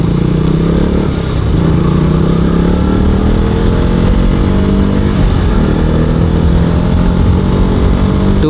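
A powerful, somewhat old motorcycle on the ride to Mypadu beach hums with a loud, steady engine drone that climbs gently in pitch as it accelerates, close by and unbroken, with no talk over it.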